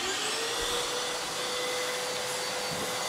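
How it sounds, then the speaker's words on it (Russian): A large 80-grit sanding block with dust extraction working over filler, a constant loud vacuum-like roar with a faint high whine, steady for the whole three seconds without speech. "Тереть сейчас я буду сейчас большим бруском 80-кой с пылеотводом"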